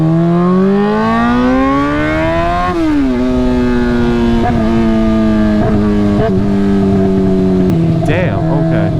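Honda CBR600 F4i motorcycle engine revving loudly while riding, pitch climbing through the gears then dropping on shifts, near and dominant, with a rider's voice and wind noise mixed in.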